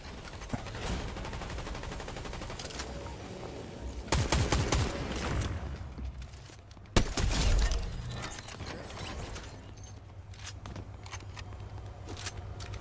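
Bursts of gunfire from a gun in the Fortnite battle royale, chapter 5 team rumble mode: rapid volleys around four and seven seconds, a sharp loud shot among them, over continuous game sounds and effects.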